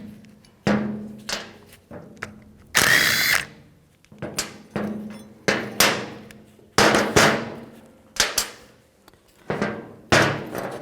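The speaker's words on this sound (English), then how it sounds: "Take these two bolts out," A power tool with a 12mm socket drives out bolts on the power steering bracket of a 2004-08 Nissan Maxima, in repeated short whirring bursts, each cut off sharply, loud and close, with clanks between them.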